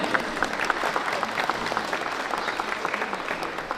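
Crowd applause at a municipal officials' introduction during a Mexican technology institute inauguration in Tlahuitoltepec, a moderate, steady patter of many hands that stays even throughout.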